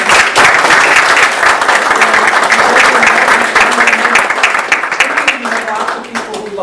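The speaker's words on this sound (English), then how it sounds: "Round of applause for that." Audience applause at a school district board of education meeting, a loud, dense burst of clapping from a roomful of people that holds steady for several seconds, then thins and fades toward the end.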